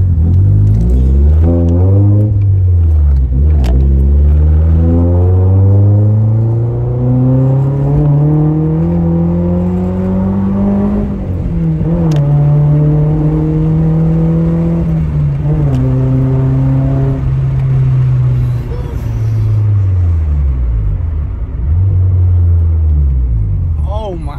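A Nissan S14 fitted with a new exhaust from Japan revs hard and very loudly from close by. Its deep, droning engine note climbs and drops through several long pulls, with short dips between them.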